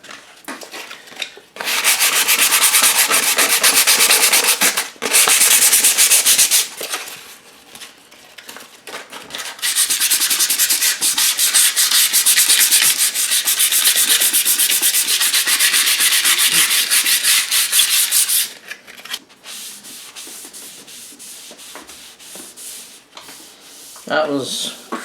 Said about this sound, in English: Sandpaper should take it from here.